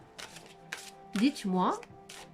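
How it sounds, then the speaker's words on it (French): A deck of animal-spirit oracle cards is shuffled by hand in a few quick, brisk riffling bursts, mixed in with a woman's speech. "Donc là, je brasse toujours."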